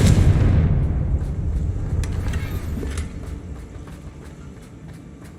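A Confringo blasting spell from the Hogwarts Legacy video game goes off as one loud, deep explosion that rumbles and slowly fades, with faint crackling debris ticking away afterward.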